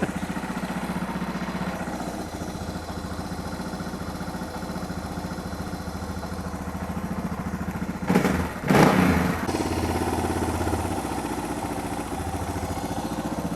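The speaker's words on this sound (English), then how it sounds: "So that's as low as I can idle it." A Suzuki DR650 motorcycle engine idles steadily at its lowest setting, a close, even thrumming with a brief burst of clatter partway through and no talk.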